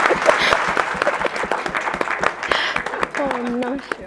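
Seminar audience applause with individual claps audible, mixed with someone speaking over it and a brief voiced tone near the end.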